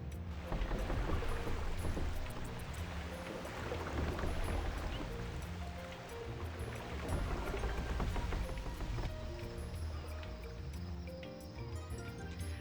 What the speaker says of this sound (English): I guess I'm taking the ferry